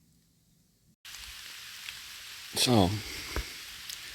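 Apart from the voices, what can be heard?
morning rain falling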